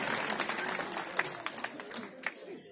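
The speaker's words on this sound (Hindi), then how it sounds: "अब देखना तालियां उधर से बजेंगी" Audience clapping at a state-level teachers' association conference in Rajasthan, a faint, loose patter of scattered claps heard from a distance, thinning out near the end.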